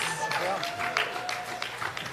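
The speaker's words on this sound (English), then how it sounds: "let's give a round of applause for our winning captains" Applause from a small press-conference audience greeting the winning captains of a golf team championship, scattered claps under a low murmur of voices.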